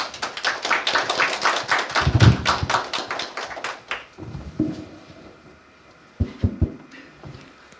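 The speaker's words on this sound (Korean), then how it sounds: "큰 박수로 맞이해 주시기 바랍니다." Audience applause at a Korea University KU-KIST graduate degree ceremony: a dense burst of clapping for about four seconds that thins out into a few scattered claps and soft thumps.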